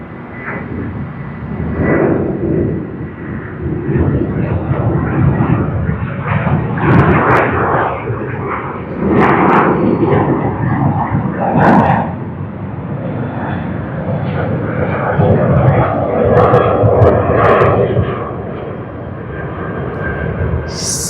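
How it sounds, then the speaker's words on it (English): Airbus A380 airliner at Sydney Airport, a loud sustained jet engine roar with rumbling low end and swelling, fluctuating intensity lasting about twenty seconds, with no voices. "Second Airbus A380 in less than 15 minutes since we started streaming"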